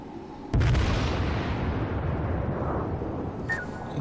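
A single heavy naval gun salvo booms from a battlecruiser in World of Warships, a loud blast with a long rumbling decay, followed near the end by a faint, brief hit sound.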